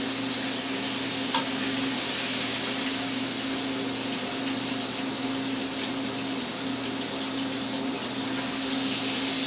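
Liver and onions frying in a pan: a steady, close sizzle runs throughout with faint stirring, no talk.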